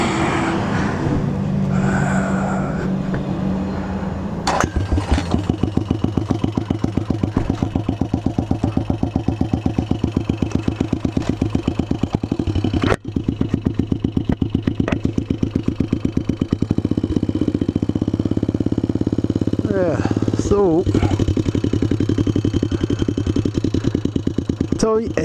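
A motorcycle engine cranks and catches after a few seconds, then settles into a steady, close, loud idle with a rapid, even pulsing beat, with a few brief knocks along the way.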